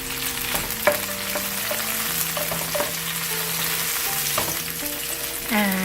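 Jalapeno pepper frying in a pan for chilli chicken, a steady close sizzle with occasional stirring clinks and scrapes throughout.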